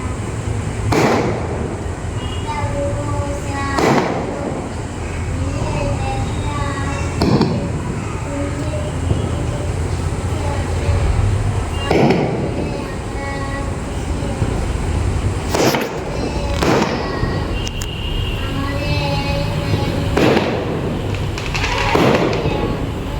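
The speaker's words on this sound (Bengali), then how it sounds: "আর এই পাশে বাজির আওয়াজ" Firecrackers burst nearby at night during a Durga Puja opening celebration, a series of sharp loud cracks repeating every few seconds over a steady noisy background with faint voices.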